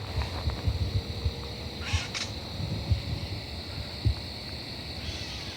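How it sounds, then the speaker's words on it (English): A gray catbird gives a short, nasal mewing call after dark amid a steady chorus of nighttime insects and faint background noise. "We're going to open up with this gray catbird,"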